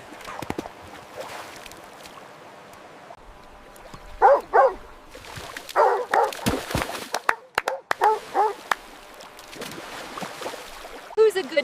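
A wet dog plays fetch outdoors, letting out short bursts of barking mixed with soft whimpers. The sounds come in uneven clusters at moderate distance.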